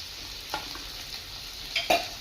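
Sliced onions, medium tomatoes and slit green chillies hitting oil in a pan for a Bengali broccoli and potato dish, a soft steady sizzle with a couple of louder stirring scrapes, no voices.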